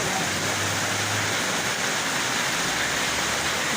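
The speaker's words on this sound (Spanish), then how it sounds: "Vemos cómo está la lluvia de fuerte" Heavy rain pours down in Villanueva during Hurricane Eta, a loud, dense and unbroken hiss that holds steady throughout with no voices.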